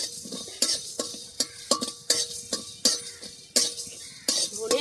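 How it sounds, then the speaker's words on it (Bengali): Dry red chillies, torn by hand, and a spoonful of coriander seeds stirred in a hot pan, giving a run of sharp scraping and clinking strokes in an irregular rhythm, close and fairly loud, with no voices. "ধনে আর লঙ্কাটা একটু ভেজে নিয়েছি"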